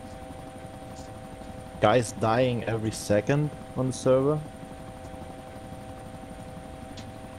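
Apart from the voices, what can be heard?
helicopter in a video game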